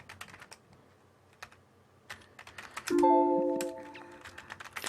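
Computer keyboard typing in irregular bursts of sharp clicks, with a short tonal hum partway through; nobody speaks.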